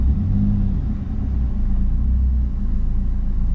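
Steady rumbling engine of a Honda motorcycle, loud and close, holding a low drone throughout with slight shifts in tone and no talking.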